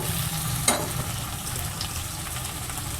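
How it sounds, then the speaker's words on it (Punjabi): Onions sizzling steadily in hot oil in a pan for a potato and okra sabzi, a dense continuous fry with one brief stir scrape near the start. "ਹੁਣ ਆਪਾਂ ਪਿਆਜ਼ ਭੁੰਨਾਂਗੇ"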